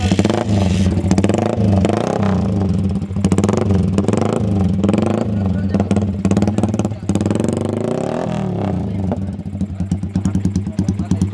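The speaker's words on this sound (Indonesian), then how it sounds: "suara knalpotnya sangat keras" A motorcycle with a very loud aftermarket exhaust revs hard and steadily up close, its throaty drone rising and falling through repeated throttle blips, with voices faintly mixed in.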